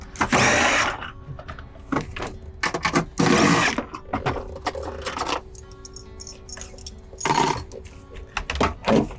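Plastic interior trim panel being yanked off a 2004 second-generation Toyota Prius, with loud cracking clip pops, thunks and rattling plastic scrapes in irregular bursts close by.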